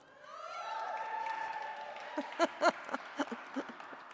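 Audience applause at an awards ceremony, a soft swell of clapping that rises and then breaks into sharper, scattered claps from a moderately distant crowd, heard alone without talk.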